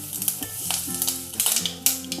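Mustard seeds and asafoetida go into hot oil for a Tamil crispy potato fry. They sizzle and crackle close up, with quick irregular pops over a steady hiss and no talking.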